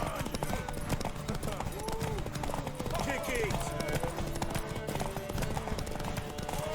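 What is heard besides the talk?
horse hooves clip-clop in The Witcher 3 video game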